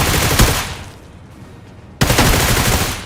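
Automatic gunfire from the battle-royale game BGMI at close range, heard as loud continuous bursts with a sharp attack near the start, a quieter lull, then another dense volley.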